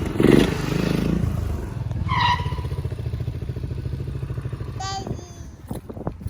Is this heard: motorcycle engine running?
yes